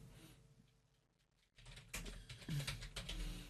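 Keys clatter on a computer keyboard while text is entered into an MS Word document, a quiet stretch giving way to a run of quick, uneven clicks at close range.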